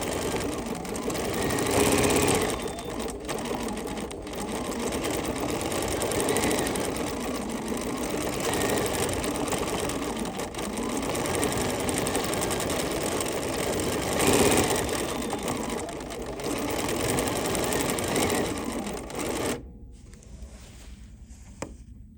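A sewing machine stitches sashing on an embroidery sampler in a steady, close, rapid mechanical rattle. The rattle continues with small pauses and then stops abruptly near the end, leaving quiet.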